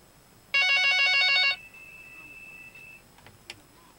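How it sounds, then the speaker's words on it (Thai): A telephone in a broadcast studio rings once with an incoming call, a loud electronic trill lasting about a second, followed by a faint tone and a few quiet clicks. "มีเหมือนโทรศัพท์เข้าครับผม"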